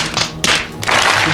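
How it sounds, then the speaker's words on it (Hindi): A small paper booklet drops out of an opened Hollyland Lark M2 wireless mic box, giving a few close, loud thuds and taps with light cardboard rustle between them. "ये बुकलेट गिरी है"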